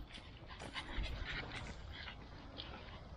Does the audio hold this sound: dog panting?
yes